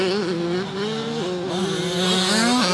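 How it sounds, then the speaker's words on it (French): Motocross bikes rev hard during a training session at Ernée, a loud continuous engine whine that rises and falls in pitch as riders open the throttle, with several bikes overlapping close by. "Les pilotes qui s'amusent ici, qui mettent du gros gaz."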